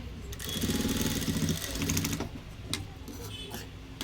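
Sewing machine running a steady straight stitch through a blouse's neck band, a continuous fast mechanical whir lasting a couple of seconds before pausing, followed by a few short bursts and faint clicks.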